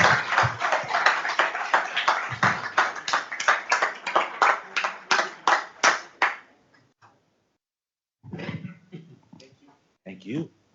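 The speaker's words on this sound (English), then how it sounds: "you want to give him a big round of applause" A small room of people at a transit board of directors meeting applauds a bus operator honored with a 21-year Safe Driver Award. Close, distinct claps run for about six seconds and then stop, followed by someone talking.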